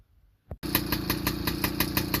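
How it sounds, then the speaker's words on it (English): A 1983 Yamaha PW50 with a big bore rebuild kicks over after a brief quiet moment and fires up, then settles into a rapid, even, close idle with a steady pulsing beat. "So let's give it a start up and give the engine a bit of a wear in."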